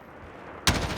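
Sudden loud burst of video game gunfire erupting after a quiet stretch, dense and sustained to the end, without talk.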